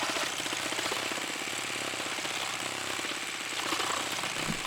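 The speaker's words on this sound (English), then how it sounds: "Cutting through those freaking nails like a champ." A Milwaukee M18 Fuel Sawzall reciprocating saw, running on a 5Ah battery, rips through nails with a loud, continuous, rapid buzzing chatter that holds steady throughout.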